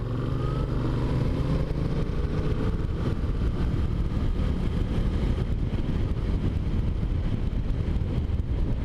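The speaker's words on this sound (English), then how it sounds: "this engine, you know, it's just you roll on, it's power, you roll off, it's engine braking" A Yamaha Tracer 7 motorcycle engine drones steadily while riding, almost buried under a constant heavy rush of wind across the microphone.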